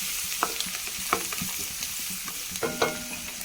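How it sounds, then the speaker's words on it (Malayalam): Chopped garlic and ginger sautéing in a pan for a chicken roast, with soft frying sizzle and several scraping stirs of a spoon at irregular moments, close and fairly quiet. "കൊത്തിയരിഞ്ഞ വെളുത്തുള്ളി ഇഞ്ചി ഇട്ട് കൊടുക്കാം കുനുക്കുനാന്ന് അരിഞ്ഞതാക്കാം നന്നായി ഒന്ന് വാട്ടിയെടുക്കാം"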